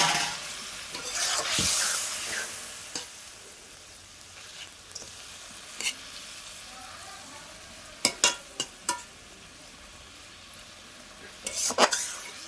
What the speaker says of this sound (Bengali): দেখো ঝোলটা ফুটে গেছে, আমি মাছগুলো দিয়ে দেবো।